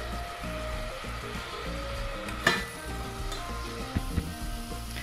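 Chopped onion sizzles steadily in a frying pan for a Spanish vegetable stew, a close, even hiss with a few clinks and scrapes as it is stirred.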